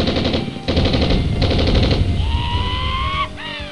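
Rapid bursts of automatic gunfire from the 1996 PC game Police Quest: SWAT, several loud close volleys in quick succession, then whistling electronic tones sweeping upward near the end.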